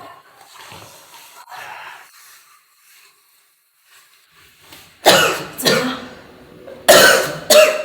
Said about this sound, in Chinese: 怎么咳嗽了？